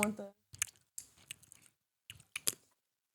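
A crunchy snack being chewed close to the microphone, with several bursts of loud crisp crunching broken by short silences, after a brief voice at the start.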